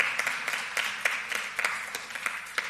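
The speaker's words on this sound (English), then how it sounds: "Another round of applause." Applause from an audience at an education committee press conference, a steady patter of many hands clapping with sharper individual claps throughout, moderately near and without voices.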